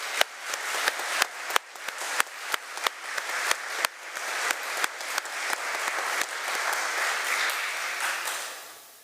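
A church congregation gives another round of applause, starting as sparse, distinct claps that quickly thicken into a full, continuous roll of clapping before tapering off at the close.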